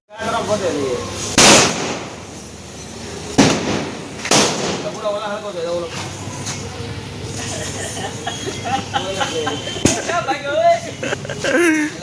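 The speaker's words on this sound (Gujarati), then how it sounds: "એક કિલોમીટર ફટાકડો સળગાવીને આવા 1 કિલોમીટર દૂર ભાગી ગયો છે." Several sharp Diwali firecracker blasts, loud and close, go off at irregular intervals, with people talking and background noise between bangs.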